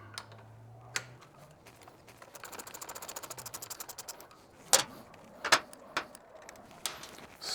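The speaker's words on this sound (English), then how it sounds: "12mm ratcheting wrench" A 12mm ratcheting wrench works on the exhaust muffler of a Triumph Thruxton 1200 motorcycle, giving a quiet, rapid run of fine ticking clicks, with a few sharper metallic clacks of tools afterward.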